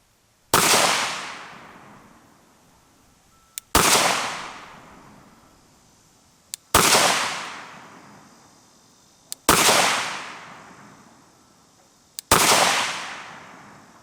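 A small .22 caliber pistol fires over a chronograph: five loud, sharp shots spaced about three seconds apart. Each crack rings out and decays slowly, and there is no talk.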